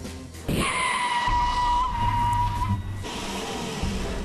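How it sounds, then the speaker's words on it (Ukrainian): A Ukrainian car brakes hard on a test course marked with cones, its tires letting out a loud, sustained squeal for about two seconds before the skid fades under road and engine noise. "Так гальмує українське авто"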